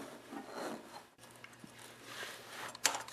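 Soft rubbing and scraping of plastic parts as a new lawnmower air filter is fitted into place, a few light knocks and a brief sharper click near the end, fairly quiet and close.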